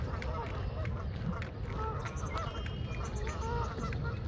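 Geese honk among ducks at Dufferin Islands, repeated nasal honks and calls over a busy outdoor background, with a person talking nearby.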